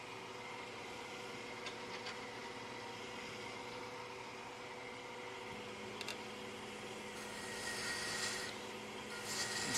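A turned wooden finial spinning on a lathe is sanded with sandpaper, a continuous soft rasping rub over the steady hum of the lathe motor that swells a little louder near the end.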